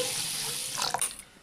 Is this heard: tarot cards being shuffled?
no